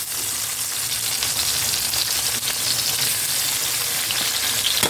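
Chopped tomatoes and onions sizzle in a hot pan, a loud steady hiss with crackling bursts and occasional stirring scrapes, with no voices.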